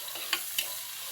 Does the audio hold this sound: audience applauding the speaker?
no